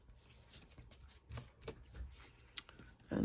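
Paper being folded and creased by hand for a beginner junk journal, with soft rustling and crinkling in short irregular bursts, close and fairly quiet.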